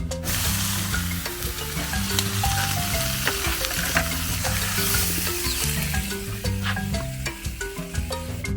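An egg and salami wrap sizzles steadily in a frying pan, a close, continuous crackle with occasional clinks, while music plays underneath.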